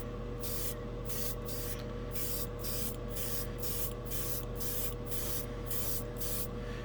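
Dspiae Colour Master metallic paint hisses steadily out of an airbrush as a compressor runs. The spray sits close and continuous, and regular brief pulses come about every half second.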